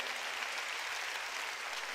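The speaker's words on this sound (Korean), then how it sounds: "박수로 하나님께 영광을 드려" A church congregation claps during a sermon, a brief, even burst of many hands applauding at fairly low volume.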